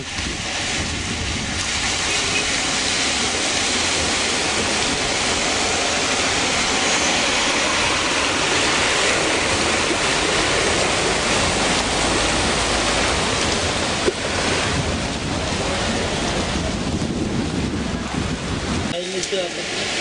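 Heavy rain floodwater rushes in Tarsus, a loud continuous roar of turbulent water with wind-like noise dominating throughout, steady and close, ending with a brief change near the close.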